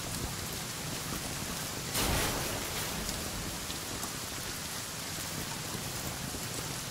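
Steady rain falling in the survival video game Sons of the Forest, a continuous even hiss of raindrops with a brief swell around the middle, no voices.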